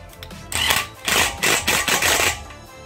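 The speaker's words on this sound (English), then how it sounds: "just go ahead and get your 15 millimeter socket" Rapid ratcheting clicks from a 15 mm socket wrench tightening a bolt on a Lincoln MKS sway bar link behind the steering knuckle, in several close, loud bursts with short pauses between them.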